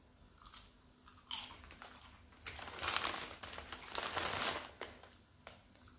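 A bag of lime-flavoured potato chips crinkles and rustles up close as it is handled, with uneven bursts of crackly plastic noise and a crunchy texture, fairly quiet overall and with no talk.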